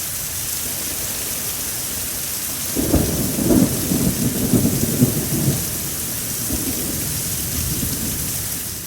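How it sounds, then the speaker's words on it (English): Heavy thunderstorm heard from inside a garage, with steady hissing rain throughout and a deep rolling thunder rumble building midway and fading over several seconds. "during a very heavy thunderstorm"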